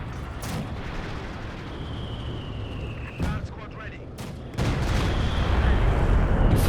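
Katyusha rocket artillery in Company of Heroes 2, a loud rumbling barrage with sharp bursts around the middle and a heavier roar toward the end, all under continuous battle noise and a commentator's voice.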